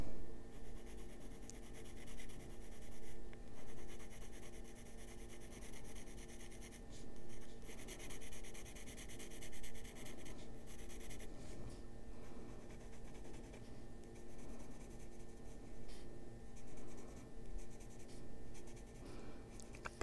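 Colored pencil rubs steadily across paper, a soft continuous scratchy shading sound with short pauses between strokes, close and quiet, with no talking.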